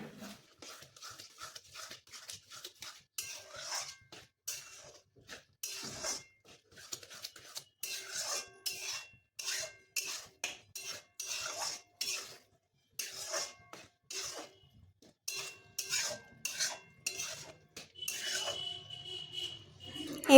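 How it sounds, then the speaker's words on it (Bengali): Mutton khichuri with moong and masoor lentils and rice being stirred in a pot, a series of close scraping, rubbing strokes of a spoon against the pot, irregular but repeated, with quiet gaps between them. "দিয়ে ভালো করে নেড়ে নেব।"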